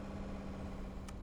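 Brief steady hum of an idling car engine in the video game Car Dealer Simulator, fairly quiet, with a short click near the end and no voices.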